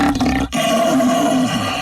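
A man imitates a lion's roar through an empty paper towel roll, producing a loud, close, sustained growling roar with a brief break partway.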